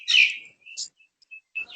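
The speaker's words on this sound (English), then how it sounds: "we can hear some beautiful birds chirping at the background" Several birds chirp outdoors in short, high, bright calls, a burst of tweets followed by scattered brief chirps with quiet gaps between them.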